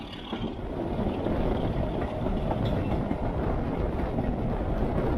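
A diesel train on Peak Rail rumbles steadily along with a dense low roar and faint rattling of the carriages, continuous and fairly close throughout.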